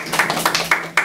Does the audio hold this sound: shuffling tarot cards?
no